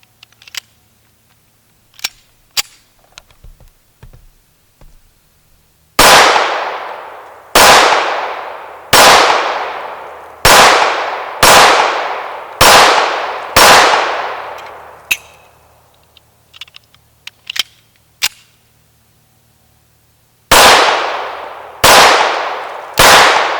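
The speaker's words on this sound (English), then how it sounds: "So here I'm just going to do a little shooting to show you the gun is proven to be accurate and reliable" Shots from an Inland 1911 A1 pistol ring out loud and close in two strings, seven rapid reports, a pause with small clicks and handling noises, then three more shots, each with a short ringing decay.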